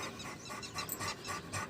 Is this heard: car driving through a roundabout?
no